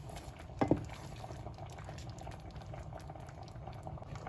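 Pasta noodles for a chicken fettuccine Alfredo cooking in a pot of boiling water, a steady close rolling bubble and hiss with one brief louder splash-like burst early on.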